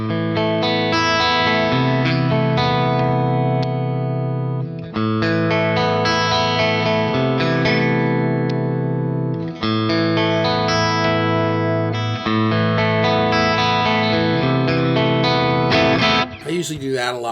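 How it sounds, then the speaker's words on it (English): Electric guitar played through a coil-tapped bridge humbucker on an FM9 preset, loud and continuous with sustained chords and effects shimmer, briefly dipping between phrases and ending in a flurry of notes. "here's the bridge pickup humbucker and then tapped"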